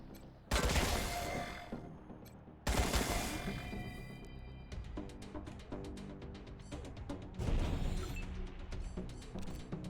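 Rifle and shotgun fire in the video game Wasteland 3: heavy blasts open the clip and recur near the three-second mark, followed by a string of sharp, rapid shots and another loud burst late on, all close and loud.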